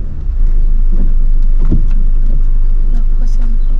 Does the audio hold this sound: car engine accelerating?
yes